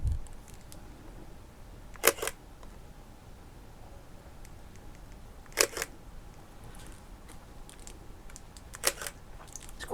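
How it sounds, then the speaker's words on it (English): A Leica MD film camera held close to the microphone fires its shutter three times, each a quiet, crisp mechanical click spaced several seconds apart over a faint background hiss. "The Leica MD is a lot quieter, and I'll put it near my microphone and you'll hear."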